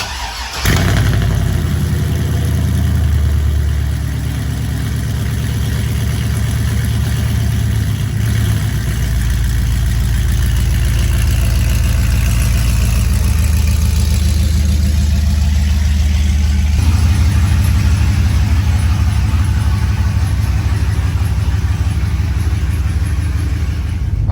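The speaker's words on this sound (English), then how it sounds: "Picking up the truck, the red truck, from getting tuned, so sounds like it's idling way better." A freshly tuned red truck with a 6.0 engine idles steadily and close by, a low, even rumble running continuously with a slight shift in tone partway through and no talking.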